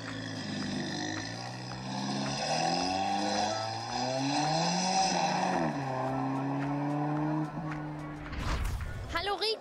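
A car engine sound played back through a smartphone app at the Auto Zurich 2016 car show, a continuous revving drone with rising and falling pitch, followed near the end by a few sharp clatters.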